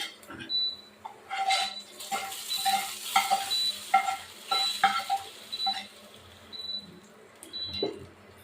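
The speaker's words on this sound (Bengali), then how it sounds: "এবার আমি মশলাগুলো দিয়ে দেবো" Spices tossed into khichuri frying in a pan, with steady sizzling under repeated spoon stirring and scraping against the pot, close and fairly loud throughout.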